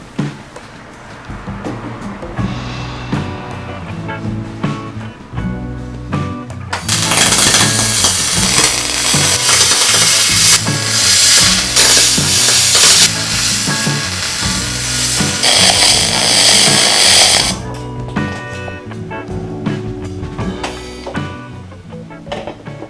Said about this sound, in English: a couple takeaways from welding aluminum so far